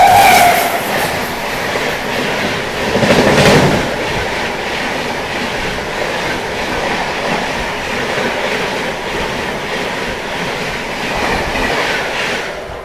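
Padmavati Superfast express train running between Tirupati and Secunderabad with its doors open, heard as a loud continuous roar of wheels and rushing air with rhythmic clickety-clack and rattling carriages, no voices.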